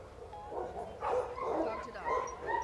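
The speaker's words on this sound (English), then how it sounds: "Dog is still very stimulated by the dogs in the kennel across from us" Dogs barking and yipping in a kennel across from a training session, repeated moderately distant barks and whines mixed with a person talking.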